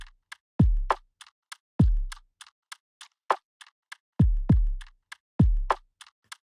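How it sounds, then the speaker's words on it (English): Jazzy lofi drum loop with a slightly lazy, human feel: deep decaying kicks land on the downbeats while crisp delayed hi-hats and snare ticks fill the gaps in a loose, steady groove, played alone. "With the drums alone, they sound like this."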